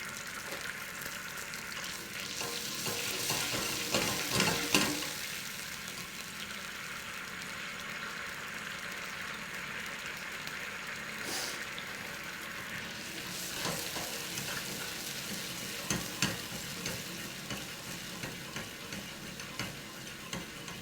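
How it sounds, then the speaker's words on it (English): A sauce reduces in a pan, bubbling and sizzling steadily at low volume, with scattered pops and a few louder bursts of stirring or spattering and no talking. "So it's almost like water boiling, but as it reduces it will go more sticky, and then the bubbles become more and more intense."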